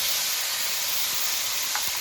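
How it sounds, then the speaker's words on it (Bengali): Potatoes fry in oil left over from frying fish, giving a continuous close sizzle and hiss with a few faint stirring scrapes and no voices. "এবার আলুটাকে একটু নেড়ে চেড়ে ভেজে নেব।"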